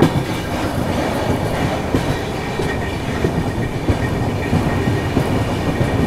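Himsagar Express passenger train running fast along the rails after a long curve, with a steady loud rumble and rhythmic wheel clatter throughout, no voices.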